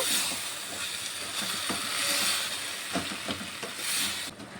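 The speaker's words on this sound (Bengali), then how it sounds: "মোচাটিকে মশলার সাথে আমি একটু ভালোভাবে নেড়ে ছেড়ে নিয়েছি।" Banana flower stirred and fried with spices in oil, a steady broadband sizzle with soft scraping stirs recurring every second or so, close and fairly loud, no voices.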